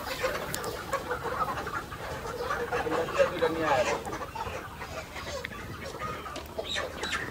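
Farm chickens cluck in a steady, busy chorus, with several hens close by and overlapping through the whole stretch, rising a little in the middle and carrying on at a similar level to the end.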